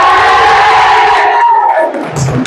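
Boys in a classroom game cheering together, a loud burst of shouting voices that holds, then fades out, with a brief quieter stir at the end.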